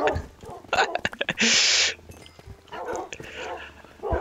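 Dogs in a Minecraft battle bark and yip in quick bursts, with a bright burst of noise in the middle and quieter game sounds between them.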